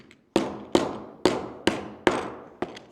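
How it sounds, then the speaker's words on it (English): Lego pieces being hammered together: six sharp, close knocks at an even, unhurried pace, each ringing off briefly before the next. "Don't worry about me, I'm just hammering Lego."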